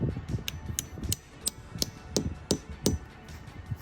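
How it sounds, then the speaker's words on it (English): A drill bores a tap hole into a maple tree outdoors, with regular knocking or clicking strokes about every third of a second over a low rumble. "Can we get some other people drilling and pounding?"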